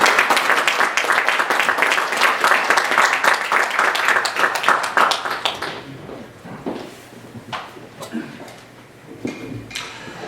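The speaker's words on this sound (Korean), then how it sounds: "우리 박수로 환영하도록 하겠습니다." A congregation at a thanksgiving worship service applauds to welcome a pastor, with loud, dense clapping for about five seconds before it tapers into scattered claps and room noise.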